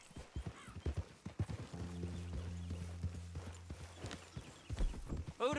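Horse hooves clip-clopping in the video game Red Dead Redemption 2, a steady run of hoof strikes heard fairly close, with a brief whinny partway through and little else around it.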